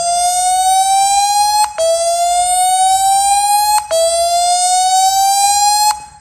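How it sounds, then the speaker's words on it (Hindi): A phone's clear-speaker function plays a loud, high-pitched harmonic tone meant to push water and dust out of the speaker. It rises steadily and resets about every two seconds, repeating three times with no one speaking. "यहाँ पर क्लियर स्पीकर में जाएंगे तो यहाँ पर जब इसे बजाएंगे"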